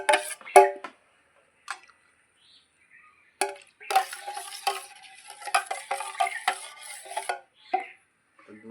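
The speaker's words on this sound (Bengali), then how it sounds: "তো দুধ দিয়ে সাজালটাকে একটু মিশিয়ে নেবো।" A spoon stirs milk into yogurt starter culture in a bowl, making intermittent scraping and clinking strokes, close and clear, with short pauses between bursts and no talking.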